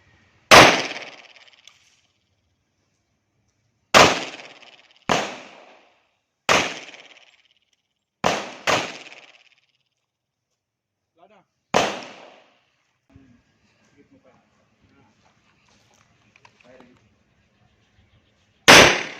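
Pistol shots from a 1911 and an STK 100 loaded with Black Wick ammunition, eight sharp loud reports spaced irregularly, with a few close together, separated by quiet gaps and faint background movement.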